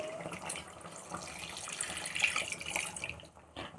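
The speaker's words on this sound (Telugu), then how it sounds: "మనం ఇప్పుడు ఇందులోకి కొన్ని వాటర్ యాడ్ చేసుకోవాలి." Water is added to a chicken curry cooking in a pot, a quiet, steady running pour with faint splashing and no other sounds.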